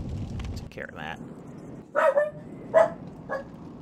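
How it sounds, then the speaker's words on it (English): A dog barks a few times in short, sharp bursts, mid-distance, with faint background noise between barks. "Sorry for the barking."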